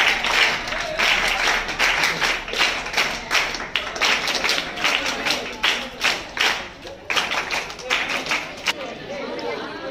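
Loud applause at a public meeting, dense rapid clapping from many hands that continues for ten seconds, with a few voices and thumps underneath.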